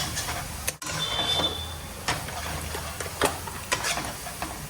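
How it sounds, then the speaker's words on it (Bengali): A spatula scrapes and clicks in a pan as salt, cumin powder and chili powder are stirred and sautéed in oil, with a soft sizzle beneath irregular, sharp stirring knocks, and no talking. "এবার এটাকে ভালো করে কষাচ্ছে চিন্টু"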